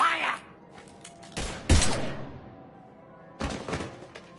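Gunshots in the sci-fi shooter Mass Effect 3 come as a few sharp, loud bursts separated by quieter gaps, with hard thuds among them and some dialogue around.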